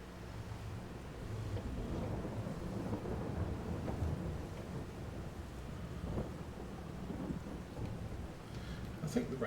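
Rain and rolling thunder in the farming game Farming Simulator 22 on the Glenleathann map, a steady rain hiss under deep, rumbling thunder swells.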